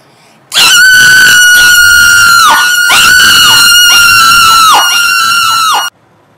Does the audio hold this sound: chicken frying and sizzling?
no